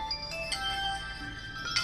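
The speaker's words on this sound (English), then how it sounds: "my phone is ringing" A mobile phone ringtone plays during a Rome: Total War gaming session, a faint melodic chime of several tones with short bright notes, quiet and close with no talk over it.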